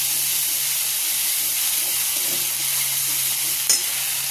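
Spices hitting hot oil in a kadai give a steady, even sizzle and hiss throughout, with a low hum underneath and one brief clink near the end; no one talks.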